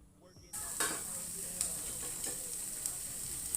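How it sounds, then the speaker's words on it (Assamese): Mustard seed paste fries and sizzles steadily in a hot pan for a red amaranth greens dish, starting abruptly, with occasional spatula scrapes and stirs cutting through the constant hiss. "এইখিনি ভাজি ভাজি শুকাই গ'লে আকৌ দি দিম।"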